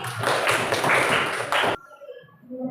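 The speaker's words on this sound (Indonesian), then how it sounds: "tepuk tangan" Children in a classroom clap together in a dense burst of applause for about a second and a half, then it stops abruptly, leaving faint room sounds and soft background voices.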